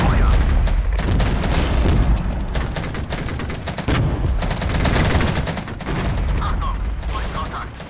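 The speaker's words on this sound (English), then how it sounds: "Let's do an artillery strike on them as well" Dense artillery fire pounds tanks in the Regiments video game during a NATO night raid, with continuous rapid booms and overlapping blasts, loud and close throughout.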